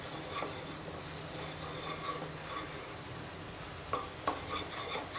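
Dry spices sauté in a pan for a fresh cashew curry, giving a faint, steady sizzle with soft scraping and a few sharp spoon knocks near the end, no talk.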